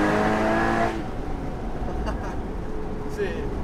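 Porsche Boxster Spyder 981 engine pulling hard on a flowing road, a loud rising engine note for about a second, then easing off into quieter cabin drone and tire noise.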